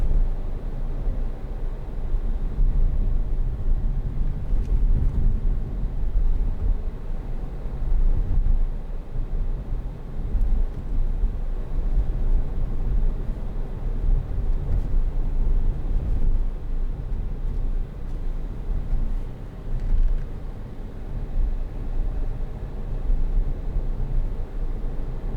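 Interior of a 2013 Hyundai ix35 1.7 CRDi 16v diesel on the move, a steady low engine and road rumble with broadband wind and tyre hiss, constant and unbroken.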